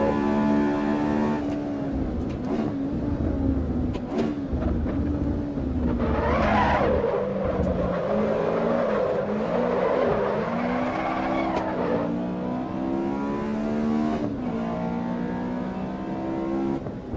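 A stock Honda S2000 in the Assetto Corsa EVO racing simulator screams near a 9,000 RPM VTEC redline, rising and falling through shifts, with tire squeal and skidding mixed in over a long stretch.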